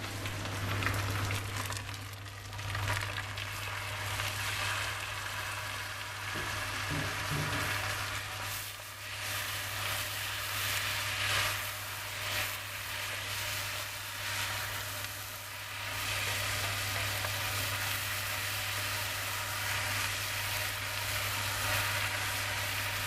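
Garlic, chili and ginger frying in a pan for a Burkinabé okra sauté, a soft continuous sizzle under a low steady hum, fairly quiet and unbroken, without any speech.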